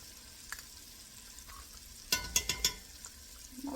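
Garlic and tomato paste fry in a pan with a soft steady sizzle, broken by a quick cluster of sharp scraping stirs in the middle, close and fairly quiet.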